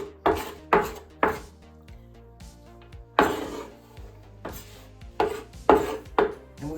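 A knife chopping vegetables such as onion and celery on a cutting board for sausage rolls, heard as about ten sharp, close, loud strikes in uneven bursts with short pauses between them and no talking.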